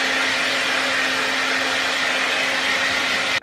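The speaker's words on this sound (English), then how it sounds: "I'm gonna be using a blow dryer to blow dry my hair." A blow dryer runs on natural hair, a loud steady airy whoosh with a constant motor hum that continues unbroken and cuts off abruptly at the end.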